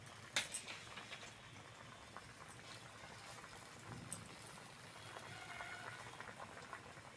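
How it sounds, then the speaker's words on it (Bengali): A covered pot of vegetables and water spinach simmers steadily, giving a soft continuous bubbling hiss with faint lid rattles and small clicks, fairly quiet and close with no talking. "ঢাকা দিয়ে সিদ্ধ করে নেব"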